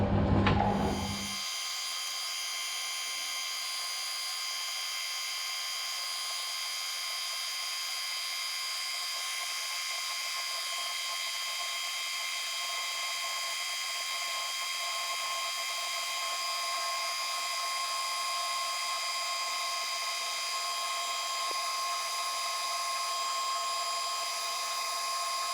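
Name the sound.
fly cutter milling aluminium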